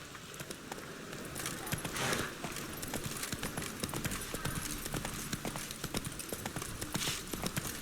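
Roach the horse gallops in The Witcher 3, a steady rapid clip-clop of hooves running on and on at close range, with no one speaking.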